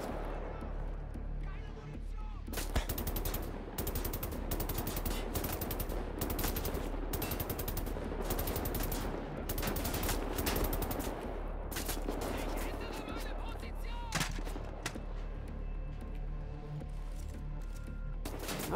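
Rapid gunfire in the first-person shooter Wolfenstein: The New Order, with dense bursts of shotgun blasts and automatic fire running for most of the stretch, loud and close, while a player talks over it.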